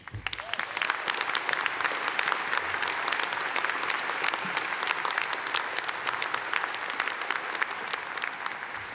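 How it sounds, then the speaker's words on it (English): A large graduation ceremony audience applauds in a hall, a dense, even wash of clapping that holds steady and loud for the whole stretch. "Please join me in a round of applause for our esteemed name reader, Ms. Beverly O'Connor."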